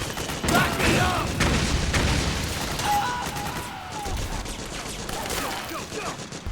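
Gunfire in the video game Metal Gear Solid 4: Guns of the Patriots, a dense battlefield fusillade of rapid shots and distant booms that runs loudly and continuously through the whole stretch.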